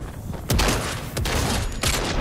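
Rapid gunfire in Fortnite, three or four sharp close shots over about two seconds against dense battle noise.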